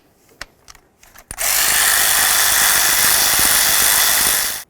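After a few clicks and clatters, a power tool whirs loudly and steadily for about three seconds, backing out intake bolts on a 2006-10 Dodge Charger engine, then stops.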